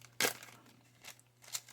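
A plastic bag stapled shut, holding decals for a Tamiya 1/35 Japanese Type 97 Chi Ha medium tank model kit, crinkles in a sharp close burst followed by a few softer rustles, with no talk.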